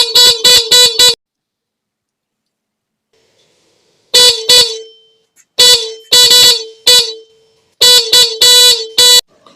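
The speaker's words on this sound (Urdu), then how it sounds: "اب میں اس ہارن کو اس 12 وولٹ سپلائی پہ چیک کر کے بتاؤں گا کہ ہارن چل رہا ہے کہ نہیں" A repaired motorbike horn powered from a 12 volt supply blares in loud, bright bursts: a quick run of short honks, a pause, then several more groups of short honks, close and alone.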